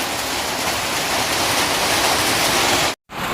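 Steady, dense rain falling, a continuous hiss that cuts out abruptly for a moment near the end before resuming.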